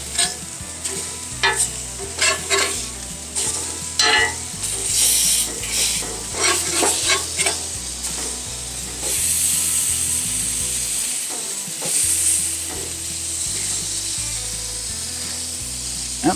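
Sausages sizzle and spit in a frying pan, a steady close hiss with bursts of crackle and occasional clinks of stirring or turning, with no talking.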